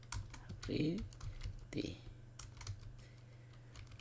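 Close keys tapped on a computer keyboard while typing a folder name, a quick scatter of clicks with a couple of heavier presses, and a voice speaking briefly over them.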